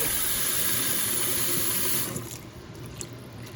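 A kitchen tap runs steadily as cabbage is washed for a Jamaican dish; the loud, full rush of water eases to a softer, lighter trickle about two seconds in.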